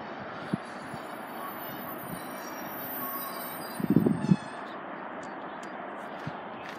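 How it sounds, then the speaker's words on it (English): A train rumbles past a level crossing at Ridgmont Station steadily with a constant roar, a brief clatter of wheels over the track midway, and faint high squealing above. "Here's the train coming from Bletchley to Bedford."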